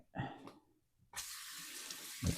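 Water runs from a kitchen sink tap in a home with granite countertops, a steady hiss that starts abruptly after a few soft clunks and continues at close range.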